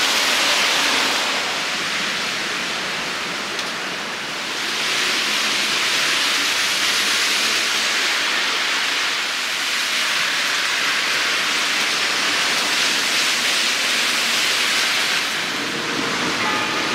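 Heavy rain pours steadily in Singapore's Chinatown, a dense, continuous hiss that stays loud and even throughout with no voices.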